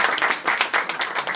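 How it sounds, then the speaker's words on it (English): An audience at a magic show applauding, a dense burst of many hands clapping together, loud and continuous throughout. "And can we give just one more round of applause?"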